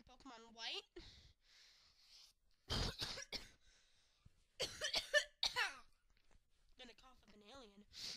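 Several harsh, close coughs and throat-clearing bursts from one person come in short clusters, mixed with brief bits of the same person talking.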